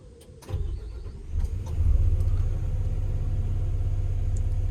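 A new digger's diesel engine starts up, then settles into a steady, loud low idle with a deep, even rumble throughout.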